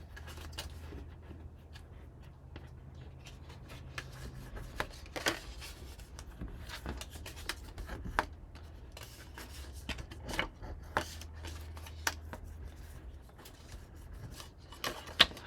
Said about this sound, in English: So again, we're going to fold and burnish.